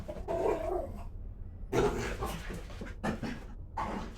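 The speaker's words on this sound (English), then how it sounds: "The dogs are playing." Dogs play-fight close by, with bursts of growling, snarling and panting separated by brief pauses.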